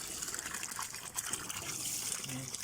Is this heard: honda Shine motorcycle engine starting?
no